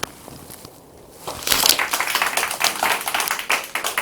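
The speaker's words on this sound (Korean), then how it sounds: "큰 박수로 모셔주시기 바랍니다." Audience applause welcomes a troupe leader at a launch ceremony for a Carnegie Hall poetry concert, starting after a quiet moment and swelling into a steady, dense clapping that continues to the end.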